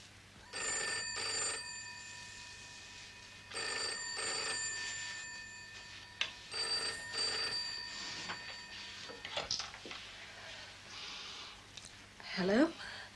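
A telephone bell ringing indoors in bursts of about a second, four rings spaced a few seconds apart at moderate volume, followed by quieter handling sounds and rustling.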